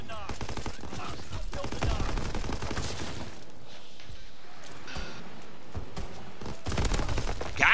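Rapid gunfire rattles through a Call of Duty: WWII match, dense bursts and single shots running almost continuously and loudly, with a player's voice shouting over the shooting.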